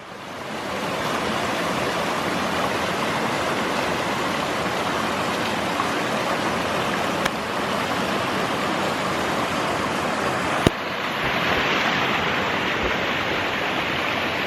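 A forest stream on the Appalachian Trail mountainside, a continuous broadband rush of flowing water, steady and full, close by and alone for the whole stretch.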